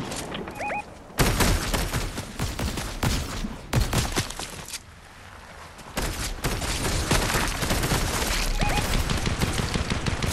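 A DMR rifle in a video game fires in dense, rapid bursts of sharp gunshots that are loud and close, with brief pauses between volleys and no talking.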